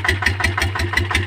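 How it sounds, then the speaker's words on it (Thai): The gearbox of a Kubota RT110 walking tractor makes a loud rhythmic clatter in short repeating bursts, close up over the running engine. "นี่เสียงตัวเกียร์นะทุกคนนะเนี่ยอันนี้ดัง"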